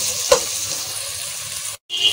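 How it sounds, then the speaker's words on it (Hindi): Garlic-ginger paste and tomato sizzle steadily in a hot pan, a close, continuous frying hiss with a brief stir and a short dropout near the end. "मैंने अब लहसुन अदरक का पेस्ट और टमाटर डाल दिया"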